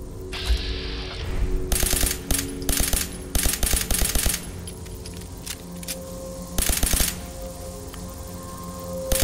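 Rapid bursts of automatic gunfire in Fallout 4, loud and close, firing in several separate volleys with short gaps between them over a steady game background.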